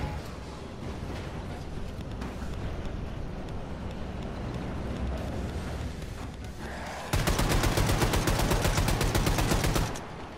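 A big gun fires in the video game Wolfenstein II. Heavy blasts rumble at first, then break into a loud, dense burst of rapid fire for about three seconds before it cuts off.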